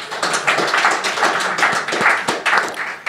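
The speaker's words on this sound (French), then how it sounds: "Applaudissements pour Stéphane Aubet, s'il vous plaît." A studio audience applauds for a guest on a French regional television program, a dense, steady patter of many hands clapping close by for the whole stretch, with no voices over it.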